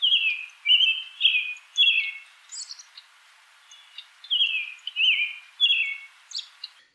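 An American robin sings clear, caroling whistled phrases in two bursts of several notes each with a pause between, close and isolated against a quiet background.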